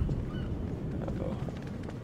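A bird in Half-Life 2 squawks and honks in short raspy calls, moderately loud over a busy, rumbling game background.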